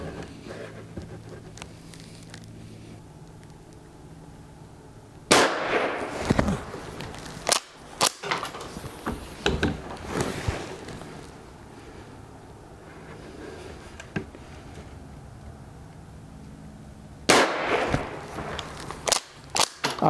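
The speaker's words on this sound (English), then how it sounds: "I'm going to take some shots at the 15-yard target there." Rossi Gallery .22 WMR pump-action rifle fired at a 15-yard target outdoors, a few sharp loud cracks spaced seconds apart with quieter handling noise between shots.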